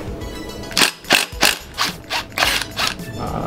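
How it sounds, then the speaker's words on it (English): A ratchet wrench loosens a tight nut on a turbo during a Mazdaspeed 3 turbo install, heard up close as about six rapid clicking ratchet bursts in an uneven rhythm. "So we're gonna loosen this nut first."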